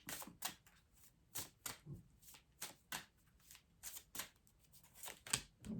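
Tarot cards being shuffled by hand, a series of crisp riffling bursts repeating about every half second, close and fairly quiet with short pauses between.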